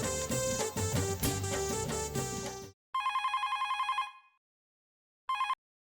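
A telephone rings in two short bursts of bell-like trilling, the first longer and the second brief, right after a stretch of music cuts off; the ringing is clear and close with silence between.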